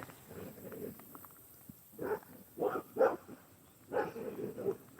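Dogs bark on a countryside walk near cows, a few short barks and woofs in clusters at moderate distance over quiet outdoor background, with no talking.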